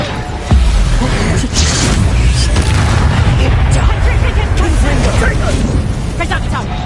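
A Reducto blasting spell in Hogwarts Legacy erupts with a loud boom, followed by a sustained rumble of dense game combat noise.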